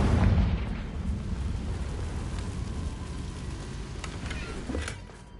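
A Confringo fire spell from the video game Hogwarts Legacy erupts in a heavy, rumbling blast that starts loud and booms on, with a few sharp crackling pops near the end as the roar slowly tails off.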